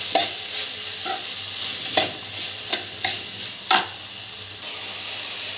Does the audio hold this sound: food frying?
yes